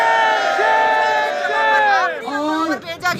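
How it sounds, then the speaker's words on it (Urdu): Crowd of protesters chanting slogans loudly and close, voices rising and falling in a ragged rhythmic chorus with shouted calls breaking through toward the end. "اور اس پر یہاں پر شدید نعرے بازی کی جا رہی ہے"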